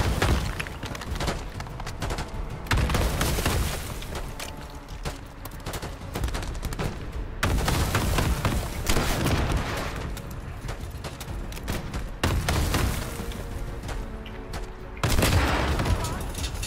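Heavy explosions and rattling gunfire burst repeatedly in Call of Duty: Black Ops 6 as an APC is blown up with an RC-XD, loud booming blasts recurring every few seconds amid constant battle noise.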